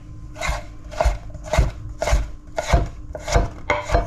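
Knife chopping meat into small dice on a board, roughly eight firm, evenly spaced strikes close up with no talk.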